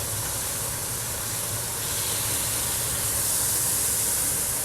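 Steak sears on a grill pan with a steady, loud sizzling hiss that holds constant throughout, close and unbroken, with no talk over it.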